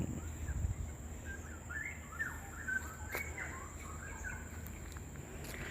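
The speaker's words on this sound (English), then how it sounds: "I can hear the sounds of birds." Faint birdsong drifts through thick vegetation in Little Guilin Nature Park, Singapore, a few scattered chirps and short phrases over a steady hum of insects and distant ambient noise.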